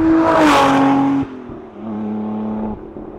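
A Lotus Emira with a V6 engine and six-speed manual revs hard toward its redline, a loud close engine note that climbs and then drops at a gear change before holding a steady lower drone.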